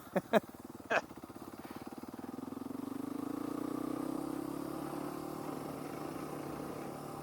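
A dirt bike engine, ridden on a trail during a shakedown ride, drones steadily and builds gradually, with a few sharp knocks near the start. It is heard at moderate distance and carries on without talk.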